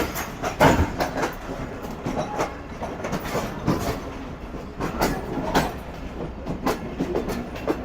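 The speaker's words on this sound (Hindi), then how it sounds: "तो ये प्लेटफॉर्म क्लियर कर दिया है हमारा, कोच प्लेटफॉर्म का निकल गया है" The Karakoram Express, a Karachi-to-Lahore passenger train on a winter journey, pulls out of a platform with rhythmic clickety-clack wheel beats and rail rumble, close and steady, with no voices.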